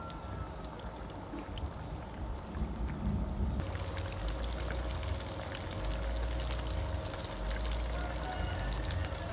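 Salmon belly sizzling and crackling steadily in hot oil in a frying pan, a dense continuous spatter held at an even level from start to finish with no talk over it.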